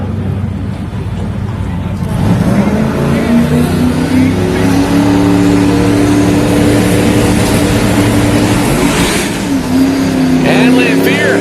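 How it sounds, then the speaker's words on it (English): At a drag strip, a drag racing car launches and spins its tires, a loud, near engine roar that rises in pitch and holds, dipping once before revving again, with a commentator talking over it. "And Lamphere getting the lucky break there, as the car immediately spun the tires"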